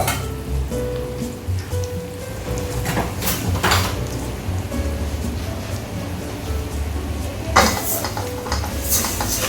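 Three cups of unwashed rice pour and rattle into a metal pot, with clinks and scraping of utensils against the pot across the whole stretch and a brighter clatter near the end.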